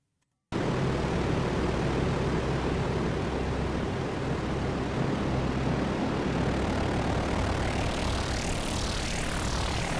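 A Behringer LM Drum analog drum machine run through flanger and phaser effects gives a loud, continuous swirl of noise with slowly sweeping comb-like tones, no voices.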